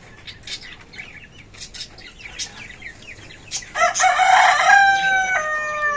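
A rooster crows loudly and close by in a drawn-out call near the end, after a stretch of softer clucking, rustling and wing sounds from chickens.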